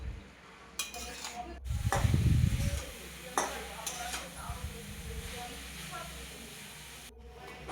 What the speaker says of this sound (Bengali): শাকটাকে একটু নাড়াচাড়া করে ঢেকে দেবে